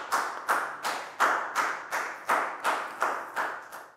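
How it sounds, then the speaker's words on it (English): A Year 4 maths class gives a round of applause for a classmate: about eleven loud, evenly spaced claps in a steady rhythm, close by, with no talking. "Big round of applause for Dan"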